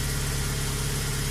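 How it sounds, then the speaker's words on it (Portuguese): A 2002 Fiat Palio with a Fire engine, which had an oil warning light come on, runs steadily at idle with an even, close, continuous hum and no voices. "esse aqui é um Palio 2002 motor Fire."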